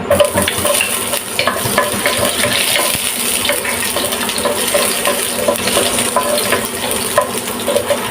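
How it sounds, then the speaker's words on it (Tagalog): Garlic sautéing in a hot pan as the base for kinamatisang tilapia, a steady close crackling sizzle with scattered sharp pops and spits that runs loudly and without a break. "Maggisa na tayo, guys."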